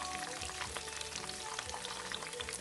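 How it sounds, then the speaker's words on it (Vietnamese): Bananas deep-fry in hot oil, a dense continuous sizzle with crackling pops throughout, close and steady with no talking. "chuối chiên nó phồng lên nè"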